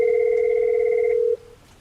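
A Cisco IP desk phone places a test call, giving a loud, steady electronic ring tone held for over a second. It cuts to a fainter tone and then near silence.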